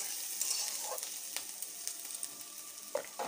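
Onions frying in a pan give a bright, continuous hiss, broken by a few soft scrapes as they are stirred. The sound is close and fairly quiet, with no talking.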